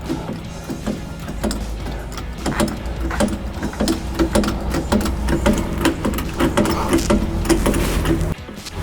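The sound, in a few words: 4-ton hydraulic jack lifting a camper trailer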